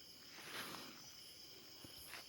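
Crickets chirp faintly and steadily in a forest behind a school at night, a thin high trill over quiet background hiss with a few soft rustles.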